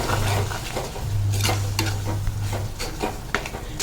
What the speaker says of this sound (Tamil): சேர்த்துட்டு நல்லா இந்த எண்ணெயிலே வதக்கி விட்டுறலாம்